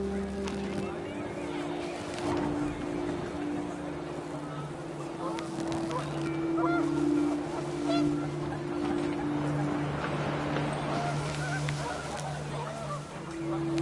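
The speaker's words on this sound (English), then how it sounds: "The wind picked up and panicked geese appeared and quickly went." Panicked geese honk in the video game What Remains of Edith Finch, a steady clamor of overlapping calls over wind and a low droning tone, with a voice talking throughout.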